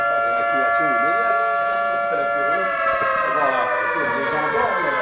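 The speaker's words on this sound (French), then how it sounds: "C'est une alerte à la bombe atomique qui va suivre." A civil defense siren sounds an atomic bomb alert test, a loud sustained wailing tone with stacked harmonics that holds steady and then slowly slides downward, heard alone without talk.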